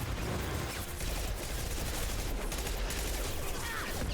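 Weapon fire from a rocket launcher in the video game Mass Effect 2, heard as a dense, loud, continuous barrage of blasts and noisy rumble lasting about four seconds with no speech.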